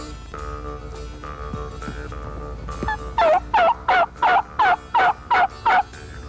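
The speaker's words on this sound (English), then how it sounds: "respond with a gobble" A wild turkey gobbler gobbling, a rapid run of about eight loud rattling gobble pulses in quick rhythm, close and clear over a steady outdoor background.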